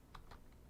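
Typing on a computer keyboard while entering script code in Roblox Studio: two or three quick, soft key clicks, close and quiet, with no voices.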